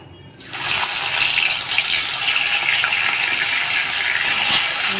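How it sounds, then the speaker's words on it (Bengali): Fish fry in hot oil in a pan for a Bengali fish kalia, with a loud, dense, continuous sizzle that rises after a quiet first moment and holds steady. "এখানে মাছগুলো ভেজে নেবো ভালো করে মাছগুলো ভেজে নেবো"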